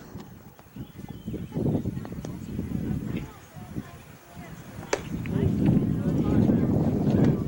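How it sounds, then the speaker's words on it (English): Strong gusts of wind buffet the microphone outdoors at a youth baseball game. The roar swells and fades in uneven surges, with a few sharp ticks of loose objects and muffled voices underneath. "Another big gust of wind rattles around the papers and the Gatorade bottle, making sure nothing blows away."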